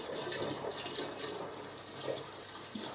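Water pouring steadily into the coolant tank of an R-Tech welding torch water cooler, a continuous close splashing trickle with no talk.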